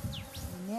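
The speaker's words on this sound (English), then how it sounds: "Epicerena, the Asiatic honeybee, pollinates the mustard flowers in Nepal's western hill country." Asiatic honeybees buzz around mustard flowers in Nepal's western hill country, a brief, faint, close insect hum with slight pitch shifts as they fly past.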